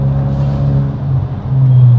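Mercedes Brabus engine in sport mode, a steady loud low engine drone with strong harmonics that holds throughout and swells slightly toward the end, heard from inside the car.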